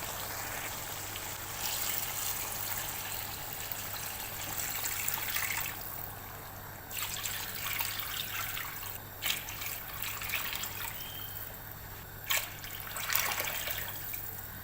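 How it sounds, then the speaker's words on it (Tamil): Water pours and splashes steadily into a cooking pot of rice for kabsa for several seconds, with a few brief pauses in the flow and no talking. "இப்போ இதில் நம்ம 4 படி தண்ணி சேர்த்துக்கலாம்."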